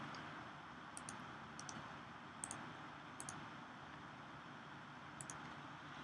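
Mouse clicks in the Telflow order portal sound as a handful of sharp, light clicks spaced about a second apart over a quiet, faintly hissing room background.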